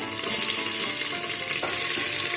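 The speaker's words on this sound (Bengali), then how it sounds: "ভেজে নেব যতক্ষণ না পেঁয়াজটা গোল্ডেন ব্রাউন কালার হয়ে যাচ্ছে" Onions frying in hot oil with whole garam masala in a pressure cooker for mutton stew, a loud, dense, continuous sizzle heard up close with faint stirring scrapes and no talk.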